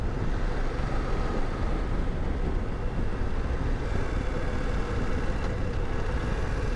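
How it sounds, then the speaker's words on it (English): Steady low exhaust burble from the end can of a 2024 BMW F 900 GS motorcycle while riding, a continuous rumble under wind noise with no talking. "So a very nice burble coming from that end can."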